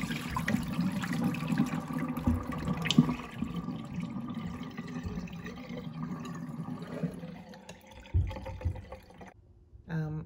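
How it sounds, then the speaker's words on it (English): Water drains from a pot of oxtail, a gurgling, splashing pour that runs for several seconds, then tapers into a few clattering sounds, with someone talking over it. "And then you drain the water."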